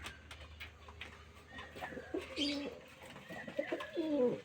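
Pigeons in a loft give soft, throaty coos that repeat in short rolling phrases, close by and fairly quiet, among faint rustling.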